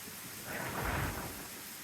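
A low rumble of thunder swells and fades during a heavy thunderstorm, with steady rain hiss underneath, faint and distant.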